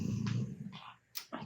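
A dog snoring nearby, with low rumbling breaths and raspy snorts in a slow, uneven rhythm, close and fairly quiet.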